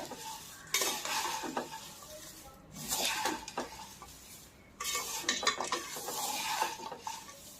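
Fried poha chivda being stirred in a pan with a metal spatula, bursts of crisp scraping and rustling separated by brief pauses, close and fairly loud, with no talking.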